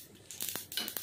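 Mustard seeds splutter in hot oil in a pan for a fried egg curry, giving faint, quick bursts of crackling and popping in irregular clusters.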